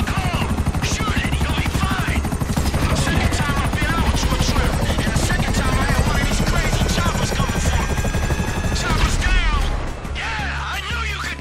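A loud helicopter in GTA 5 whirs steadily with a dense rotor thrum throughout, up close, with scattered crashes and thuds over it before it eases slightly near the end.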